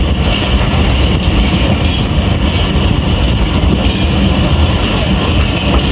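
The 8 Down Tezgam Express passing at speed on the Rawalpindi–Lahore main line, a loud, steady roar of wheels and rail noise with a faint clickety-clack, continuous and close throughout.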